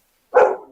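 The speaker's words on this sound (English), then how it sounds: "I can't hear when you bark, girl" Single loud, close bark from a female dog, sharp and short with a brief trailing tail.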